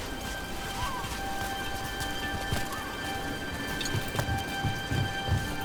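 Steady rain falls throughout a rainy scene in the video game Dragon Age: The Veilguard, a constant wash of drops with soft thuds and footfall-like knocks toward the end.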